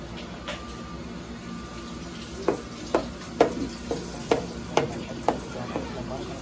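Butter stirred into a pot of cooking cream of wheat, with a low bubbling sizzle and a run of quick, regular spoon scrapes against the pot that grow louder in the second half.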